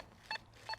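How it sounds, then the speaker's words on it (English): A Deus metal detector on its Sonar program gives a target overload signal: two short, bright electronic tones about half a second apart, faint and alone. "Oh, that's a target overload sound."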